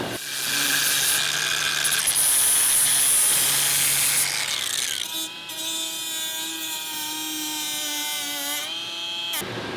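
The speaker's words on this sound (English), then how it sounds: "I'm going to use this grinding tool here with a little bit of a flap wheel just to take a little bit of extra material out of there" A handheld grinding tool fitted with a flap wheel abrades away material from a window cutout in a Sprinter or Transit van wall, a loud, steady, high-pitched whine that shifts pitch midway through and runs continuously with no talking.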